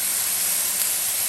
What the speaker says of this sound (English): when the sizzling is done, then that's when you stop adding the chicken broth